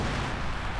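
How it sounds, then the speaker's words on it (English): A video game artillery strike lands as a brief, loud, dense rumbling blast that fills the whole moment with heavy low-end impact. "Another artillery strike."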